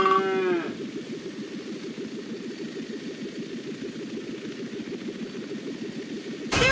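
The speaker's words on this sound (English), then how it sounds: "Cow spotted. There's a cow." A cartoon cow in a children's farm video game gives a long, steady moo that lasts several seconds at moderate loudness, opening with a short rising tone.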